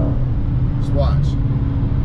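A Dodge Challenger Scat Pack's engine gives a steady low rumble close by while someone talks over it throughout.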